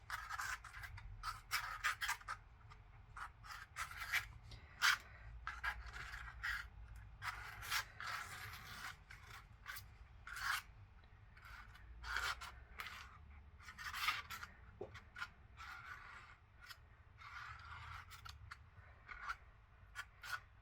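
Acrylic texture medium is scraped across a surface with a palette knife or similar tool, making a series of close, soft, rhythmic scrapes and rasps with no one speaking.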